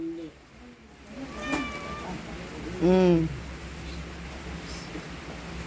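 A cat meows twice, a short call followed by a louder, drawn-out meow, close by over a faint steady background hiss.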